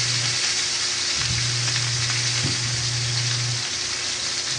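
A pot of fish broth boils steadily, with a continuous bubbling, sizzling hiss and a faint low hum underneath; no voices.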